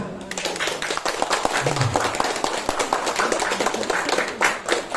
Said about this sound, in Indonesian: Tepuk tangan dulu untuk panitia.